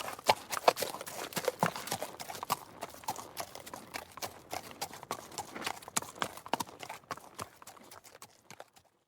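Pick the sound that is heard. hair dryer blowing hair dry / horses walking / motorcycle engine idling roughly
horses walking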